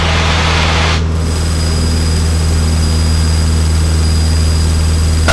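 Steady, loud drone of a Cessna 152 piston engine at full climb power during touch-and-go practice at Apple Valley, heard from inside the cockpit, with a brief wind-like rush at the start and a continuous low hum throughout.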